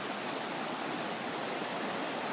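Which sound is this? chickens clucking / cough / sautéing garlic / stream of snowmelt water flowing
stream of snowmelt water flowing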